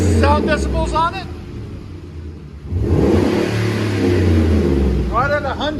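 A car running a Flowmaster muffler exhaust idles, then revs hard in a loud, smooth, sustained roar up close; a voice talks briefly before and after the rev.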